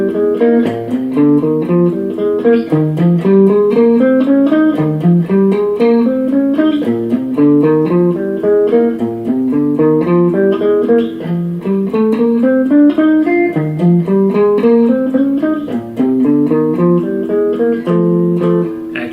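Electric guitar plays a repeating blues shuffle pattern through the changes in a Mixolydian style, with steady swung note groupings that climb and repeat for about nineteen seconds, close and loud with no voices.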